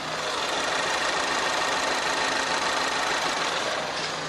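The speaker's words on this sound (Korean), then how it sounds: "엔진 소음 먼저 들려드리면은" A Chevrolet Alpheon sedan's 2.4-litre Ecotec gasoline engine idles with the hood open, a steady, even hum heard close up, with no changes in pitch or level throughout.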